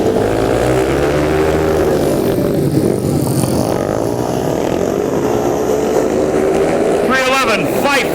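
Racing motorcycle engines drone loudly together under a race announcer's voice as the Harley field at IMS gets ready for a restart, a steady roar with one engine revving and rising sharply near the end.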